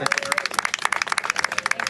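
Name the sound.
round of applause for a congresswoman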